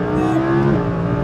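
A naturally aspirated sports car, either an Acura NSX or an Audi R8, accelerating hard in second gear, its engine note loud and close with a steady rising drone.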